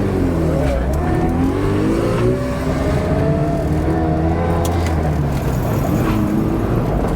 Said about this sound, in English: at full throttle, it won't go over 4 grand.